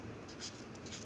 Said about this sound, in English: So like this we will write here mimosa.